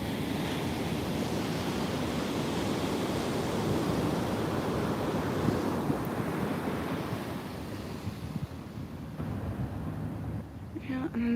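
Ocean surf rolls and breaks steadily at a surf spot where surfers and a paddleboarder ride the waves, a dense continuous wash with wind buffeting the microphone, steady throughout.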